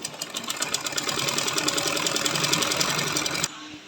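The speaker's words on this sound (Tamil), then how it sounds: "நம்ம இதை தைக்கணும் இப்படி தான் தைக்கணும்" A sewing machine runs fast and steady, stitching fabric for a sewing class with a loud rapid rhythmic whir up close, then stops abruptly near the end.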